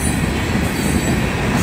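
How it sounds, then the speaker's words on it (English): A Union Pacific outbound manifest freight train with open boxcars rumbles past close by at Val Vista Drive, wheels grinding and squealing in a loud, steady roll with no voices. "Sometimes the box cars are wide open on moving trains."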